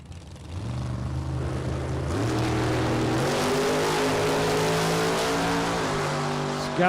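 A 1969 Chevrolet Camaro drag race car at a Super Pro bracket event launches and accelerates hard, its loud engine note climbing steadily through the gears for several seconds with no talk over it.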